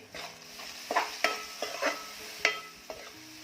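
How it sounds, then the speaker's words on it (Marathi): Moong dal is sautéed in a pan. A spoon scrapes and stirs in quick, distinct strokes over a soft sizzle, close and alone. "डाळ चांगली परतून झालेली आहे"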